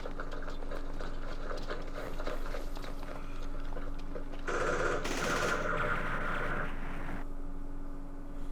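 Bursts of small-arms and machine-gun fire from a Vietnam War battle in the game Campaign Series Vietnam rattle steadily over a constant mechanical drone, with a brighter, denser flurry of shots midway.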